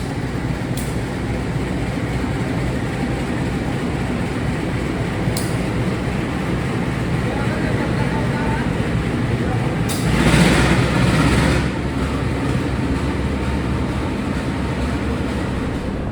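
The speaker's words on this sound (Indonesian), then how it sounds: "Langsiran lokomotif CC 2018305 di Poinduk, Yogyakarta" Locomotive CC 2018305 shunting at Poinduk, Yogyakarta, a steady low diesel rumble holding throughout, with a brief louder swell near the end.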